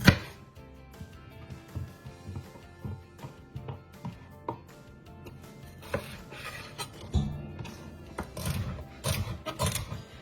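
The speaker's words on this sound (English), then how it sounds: "Next, we're going to mince up our celery by cutting it into workable pieces." A knife mincing celery on a cutting board, close irregular chopping taps in quick clusters that grow busier toward the end, with no talk.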